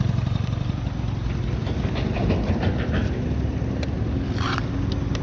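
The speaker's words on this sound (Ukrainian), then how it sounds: "Двигун працює ідеально." A Honda Topic AF38 cargo scooter from Japan idles close by after a kickstart, its low, steady engine rumble running throughout.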